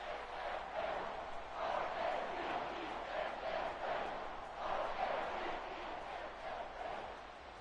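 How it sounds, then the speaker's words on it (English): A large football stadium crowd roars in the fourth quarter of a Colts vs Ravens game after a game-tying touchdown, a sustained, pulsing wall of cheering heard from a distance with no distinct voices. "This crowd alive again."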